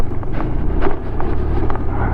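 Gusty morning wind on the Marilaque highway rushes and buffets the microphone in a steady low roar, with no voices.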